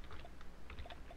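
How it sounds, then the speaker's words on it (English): Quiet, close keystrokes on a computer keyboard as a name is typed, a quick irregular patter of soft clicks with no talk. "It's hard to type a name and speak at the same time."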